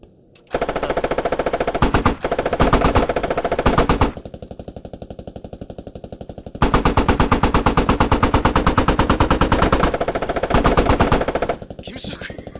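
Heavy machine gun fire from an M2A3 in the Squad video game, long rapid bursts of close, loud shots with short breaks between them.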